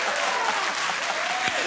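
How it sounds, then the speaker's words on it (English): A television talk-show studio audience applauds, a dense, steady roar of clapping that holds at an even level for the whole moment, with a voice faintly under it. "Keep clapping."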